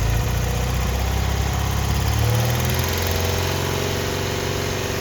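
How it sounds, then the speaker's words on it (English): A carbureted BMW engine runs loudly up close, a steady rumble whose pitch lifts a little partway through as the revs climb off idle. "So I'm just revving it up."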